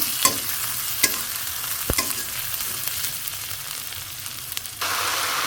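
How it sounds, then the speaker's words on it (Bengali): Sliced onions fry in hot oil in a pan with a constant close sizzle, punctuated by a few sharp clinks and scrapes of a spatula stirring them. "পেঁয়াজগুলো দিয়ে নিছি হালকা একটু ভেজে নিব"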